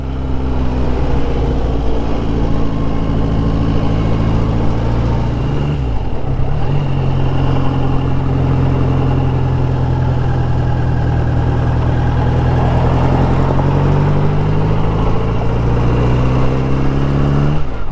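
An Ariel Square Four vintage British motorcycle runs cold with the choke just eased off. It gives a loud, close, steady low idle with a brief dip and uneven revs partway through, then settles back into a continuous rumble.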